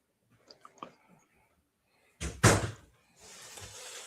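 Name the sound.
door being closed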